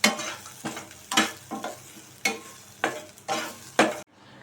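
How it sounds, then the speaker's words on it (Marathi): Grated coconut is lightly warmed in a pan as a spoon stirs it in about seven rhythmic scraping strokes over a soft sizzle, ending abruptly in near silence. "आता खोबरे घातले आहे मी त्याला पण असं असं लालसर करायची काही गरज नाही आहे फक्त थोडेसे गरम करून घ्यायचे आहेत"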